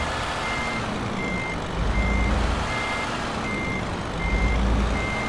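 A truck in Euro Truck Simulator 2 backing up, its reversing alarm giving evenly spaced high beeps about once a second over a low diesel idle that swells briefly as it moves.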